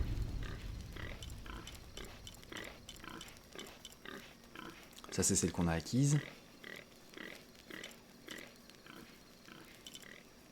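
Pigs grunt in the background near a campfire in the video game Shadow of the Tomb Raider, a steady low oinking that runs under someone speaking French, with a louder burst of game sound midway.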